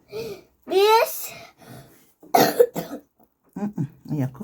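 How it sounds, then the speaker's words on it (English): A small child coughs a few times in a home kitchen while a cake is being decorated, the harsh bursts mixed in with nearby talking. "When you're coughing, you cover your mouth."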